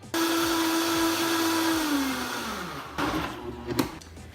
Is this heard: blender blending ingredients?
yes